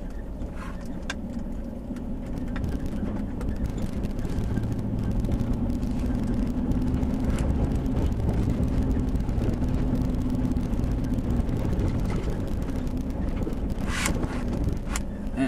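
A 2005 Nissan Titan with an open differential climbing a hill in New Mexico: a steady, muffled engine drone heard from inside the truck, mixed with wind buffeting and rattles.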